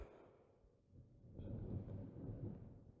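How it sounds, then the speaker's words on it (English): A long, low rumble of thunder rolls in, swelling and staying heavy for a couple of seconds, distant and muffled rather than sharp. "a big thunder roll."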